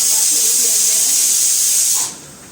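A loud, steady hiss of okra frying fills the air for about two seconds, then drops away sharply to a quieter background.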